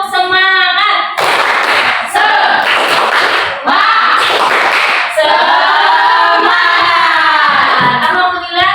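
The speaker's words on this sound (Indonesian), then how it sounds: "kita tepuk semangat dulu dong. Tepuk semangat." A class of eighth-grade students claps in a fast rhythmic pattern together with chanting voices, loud and close, continuing for several seconds.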